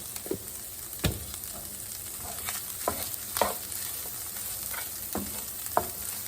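Garlic sizzles in seasoning oil in a skillet, a soft steady crackle broken by occasional scraping stirs, fairly quiet and close.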